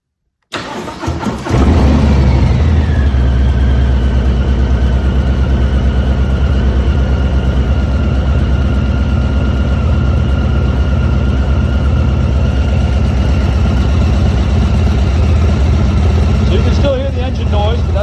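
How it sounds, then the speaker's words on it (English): A 2022 Harley-Davidson FXLRST motorcycle with slip-on exhaust starts and settles into a steady, low rumbling idle with a throaty exhaust note, running close and loud for many seconds. "you definitely have a nice exhaust note. It's got a nice little rumble to it"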